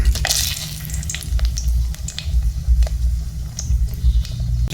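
Dried red chillies fry in a home-kitchen pan, a steady, close crackling sizzle with popping spatters running throughout, alone with no talk.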